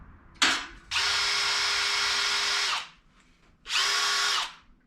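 A power drill spins MIG filler wire clamped in its chuck to twist it, with a brief burst followed by a long steady whine, a pause, then a second shorter run, close and loud with no talk.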